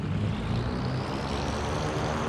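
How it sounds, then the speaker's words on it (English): A steady, close aircraft engine drone with a rising whine and heavy low rumble during a takeoff run in the Firefly Air Ops flight sim game, loud and continuous with no talk. "it would be a really scenic takeoff."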